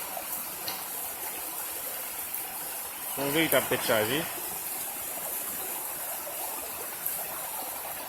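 Water pouring out onto the ground outdoors, a steady rushing flow like a stream, loud and constant, with someone talking briefly over it partway through.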